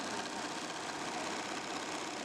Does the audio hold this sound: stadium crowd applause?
no